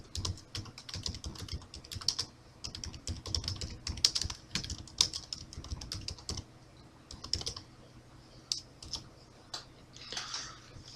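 Steady, irregular tapping of keys on a computer keyboard as a message is typed, close and fairly quiet, with uneven bursts and brief pauses and no voices.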